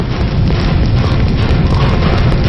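A bomb explosion in a Telugu movie scene: a loud, dense, sustained roaring rumble fills the whole moment without letup.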